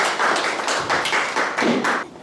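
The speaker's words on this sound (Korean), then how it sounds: "큰 박수로 맞이해주십시오" A lecture-hall audience at a Confucian college class claps for an emeritus professor of classical Chinese literature, with steady, rhythmic bursts of applause close by that stop abruptly after about two seconds.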